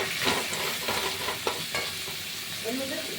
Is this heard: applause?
no